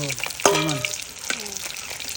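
Pieces of pangas fish sizzle and crackle in hot oil in a pan, with a sharp spatter and scraping stirs over a steady fry.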